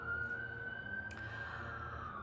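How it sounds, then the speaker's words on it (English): A siren from a passing emergency vehicle sounds outdoors as a faint, steady wail at a distance, with no one talking over it. "Sirens again, sorry."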